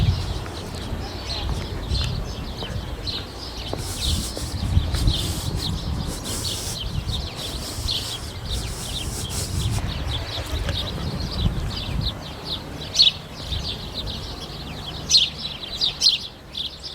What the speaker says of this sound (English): you can hear the sparrows in the background